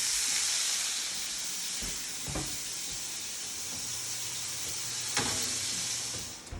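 Steaks sizzling in a hot pan as they are flipped: a loud, steady, hissing sizzle right up close, broken by a few soft knocks from turning the meat, with no speech.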